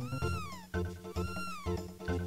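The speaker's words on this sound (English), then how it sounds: "Look, Chrono, your cat's running away because you haven't been feeding it" A cat in the Chrono Trigger video game meows twice in quick succession, clear, close and alone, each cry a drawn-out falling tone.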